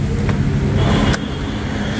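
A car idles and settles as it is parked at the roadside by a hotel at night, a steady loud low rumble with a faint click, then a slightly quieter hum.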